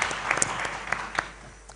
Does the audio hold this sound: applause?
yes